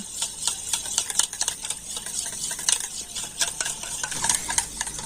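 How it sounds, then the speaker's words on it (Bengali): Sour yogurt being whisked in a bowl, a steady, rapid scraping and tapping stir that repeats closely and evenly throughout, with no talking. "প্রথমে আমি টক দইটা করে ফেঁটিয়ে নেব"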